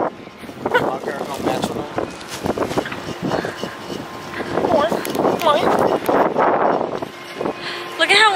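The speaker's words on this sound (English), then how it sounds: "Look at how windy it is." Gusty wind buffets the microphone with a steady rumbling roar while several people talk over it outdoors in California.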